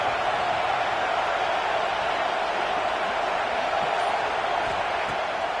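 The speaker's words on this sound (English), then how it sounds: "Decibels rising as the crowd gets behind this defense on third down." A football stadium crowd roars steadily as the defense lines up on third down, a dense, constant wash of distant cheering that stays loud for several seconds with no clear voices.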